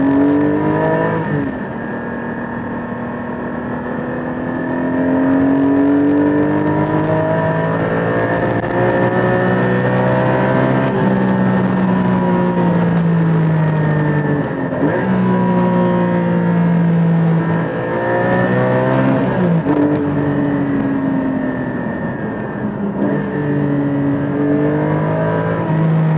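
A Porsche 718 GT4 engine heard from the cabin while driving, repeatedly revving up through the gears with rising howls and brief dips at each shift, loud and sustained for the whole stretch with no talking.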